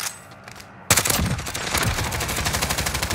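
Sudden burst of rapid automatic gunfire in a video game, loud close rattling shots erupting after a brief quiet stretch and continuing densely to the end.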